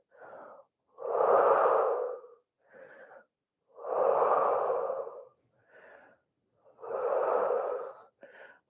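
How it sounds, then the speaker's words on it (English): Slow deep breathing during a rest in a Pilates hip and glute workout: three long, loud exhales alternating with shorter, quieter inhales, close to the microphone, with no talking. "Take some deep breaths."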